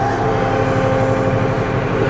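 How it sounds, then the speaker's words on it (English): A tractor engine idles and runs steadily at close range as it is turned around, a loud continuous low mechanical drone with no talking. "get this tractor turned around here"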